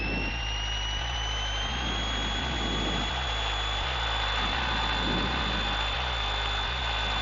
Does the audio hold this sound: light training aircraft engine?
yes